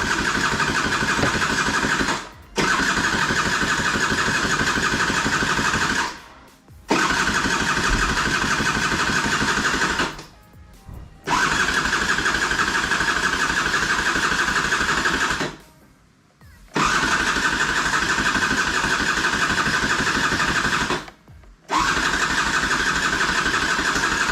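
A Skipper 150cc motorcycle engine runs loud and close in long sustained stretches, cutting out briefly several times between runs as it is restarted and revved again.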